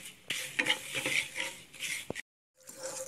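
A spoon stirs sugar and water in a pan into syrup for gujiya, busy close scraping and clinking with a soft bubbling hiss, then a brief moment of silence before the stirring resumes more quietly.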